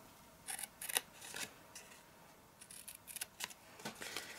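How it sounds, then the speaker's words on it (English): A craft knife cuts a slot and score lines in paper or card, giving faint, short scraping strokes in scattered clusters amid quiet. "With a craft knife you want to just cut a slot, and you want to cut a score line on either side."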